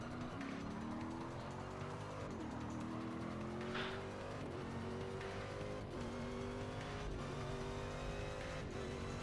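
Race car engines drone and rev loudly and continuously through a simulated Rolex 24 endurance race in Forza Motorsport 6, pitch rising and dipping through gear changes, with occasional tire squeal and no talk.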